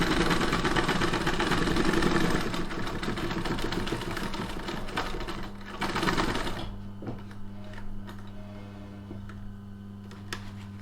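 A sewing machine stitches a knife roll with a fast, loud, steady whir for about six and a half seconds, then stops and leaves a low faint hum with a few soft clicks.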